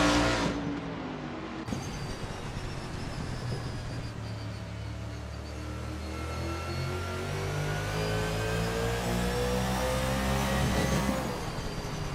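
A 1989 Camaro Z28 IMSA GTO race car laps Martinsville, its loud V8 engine droning and rising in pitch through acceleration, then sweeping down and back up as it brakes and powers out of a turn.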